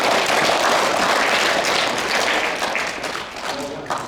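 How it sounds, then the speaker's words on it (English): Loud, sustained applause from a crowd of children and others for their sports coaches at a prize-giving, dense clapping that holds steady and eases slightly toward the end. "give your coaches a round of applause"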